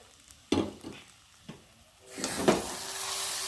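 Tomatoes tossed into a hot pan for a daliya recipe and stirred, with a few scraping knocks of the spoon followed by a rising, steady close sizzle of frying.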